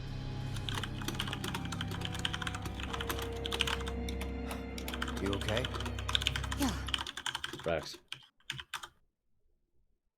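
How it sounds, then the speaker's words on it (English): A computer keyboard clatters loudly with rapid, continuous keystrokes under game sounds and brief talk, the typing thinning out and stopping near the end. "Your keyboard is really loud."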